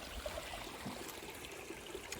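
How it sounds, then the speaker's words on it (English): A creek runs steadily at an off-grid homestead, a continuous soft babble and trickle of water with no pauses, fairly quiet and recorded close by. "Oh yes, the creek's running pretty nicely."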